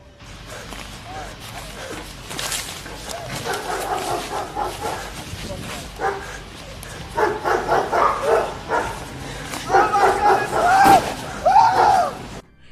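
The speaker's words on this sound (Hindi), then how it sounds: "पीछे से कुत्तों की आवाजें भी आ रही हैं" Dogs bark and yip repeatedly in jungle handheld footage, several loud bursts rising over a running voice and rustling movement, growing more frequent toward the end.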